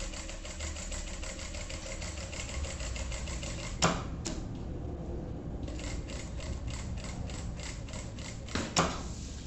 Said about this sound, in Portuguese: E eu vou passar uma costura na borda toda.